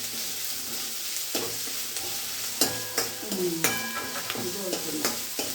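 Ginger and garlic fry in a pan for noodles with a continuous hiss of sizzling, broken up by sharp metallic clinks and scrapes of a spatula stirring at irregular intervals.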